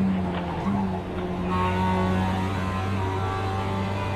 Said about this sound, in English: Try to go down to 4th here in the braking zone.